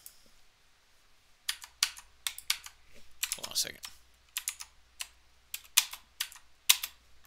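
Keys clatter on a computer keyboard in irregular bursts of crisp, close clicks, with someone briefly speaking in the middle of the typing.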